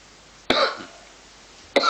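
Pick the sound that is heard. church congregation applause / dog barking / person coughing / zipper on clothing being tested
person coughing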